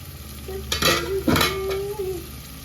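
Spice paste for duck curry fries and is stirred in a pan, with a gentle sizzle under two bold scraping strokes and a faint tonal whine running through, near and without talk.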